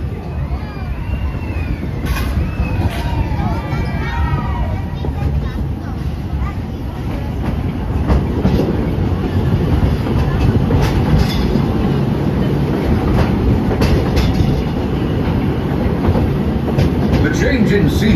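An old gold-mine-themed roller coaster train at Big Thunder Mountain rattles and rumbles loudly and steadily along its track, with clanking wheels, metallic squeals and crowd noise throughout.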